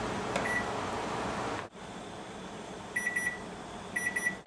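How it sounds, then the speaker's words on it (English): A kitchen timer goes off during a home canning session, with two short bursts of rapid high beeps over a low hum of room noise and a faint earlier chirp. "The timer has gone off."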